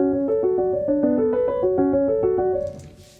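Two identical piano-like note patterns in Ableton Live drifting out of phase in the style of Piano Phase, a rapid, even stream of bright repeating notes interlocking, clear and alone, fading out at the end.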